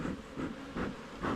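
A beekeeper's smoker puffs four times at an even rhythm, each breathy hiss swelling and fading, close and fairly loud during a rainy-day hive inspection.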